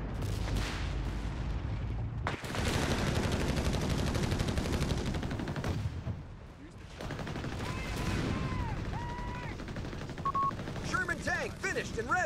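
Gunfire rattles through a World War II beach landing battle in the game Company of Heroes 3: dense bursts of rifle and machine-gun fire, a sudden cutoff, then renewed shooting with radio-style voice chatter and whistling tones toward the end.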